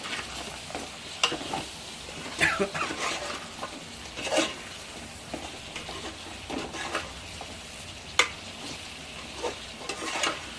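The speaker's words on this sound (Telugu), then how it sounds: "కారం వేసి కలుపుతున్నా. కలుపుతున్నాను ఫ్రెండ్స్ మొత్తం." Chicken curry with chili powder being stirred in a pot, soft scraping and clinking of a spoon against the pot over a quiet low sizzle, a few sharper knocks, close and without talking.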